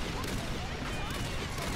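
Mortar fire in the video game Earth Defense Force 4.1 comes as a short, dense burst of rumbling blasts, fairly quiet and continuous for under two seconds.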